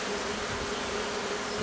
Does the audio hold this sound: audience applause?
no